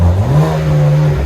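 A BMW Z4 with a 3.0L inline-six fitted with Vibrant resonators revs loudly and close by, giving a brief steady rising drone.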